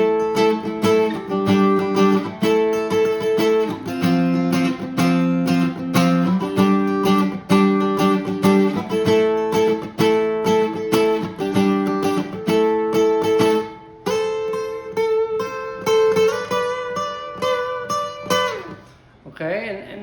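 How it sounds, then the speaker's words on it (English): Clean electric guitar chords drenched in delay and reverb, ringing repeats and a washy tail, played steadily for about twenty seconds with a change of voicing near the end before fading out. "just use the same chords but with delay and with reverb"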